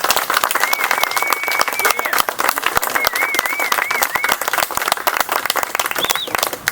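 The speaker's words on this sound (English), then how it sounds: "Please give this man a round of applause." Crowd applause for a Ranger Regiment veteran at a veterans press conference, steady dense clapping throughout, with a faint whistling tone weaving over it and occasional voices mixed in.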